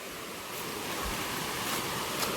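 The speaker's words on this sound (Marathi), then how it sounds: "इकडे बघा नदीचा आवाज येतो आपल्याला" Continuous rushing water, a broad steady wash of flowing river close by, with no voices.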